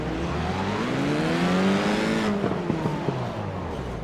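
Several FIA F4 race cars at a sim-racing race start, engines droning together with rising and falling pitch and a steady pack roar, followed by short sharp gear-shift blips near the end.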